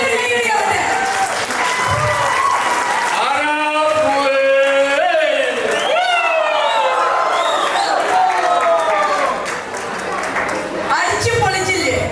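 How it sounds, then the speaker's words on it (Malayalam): Audience clapping and cheering at an SNDP 2024 community celebration, a steady loud wall of applause throughout with a voice speaking over it. "എല്ലാവരും കൈയടി ആവട്ടെ."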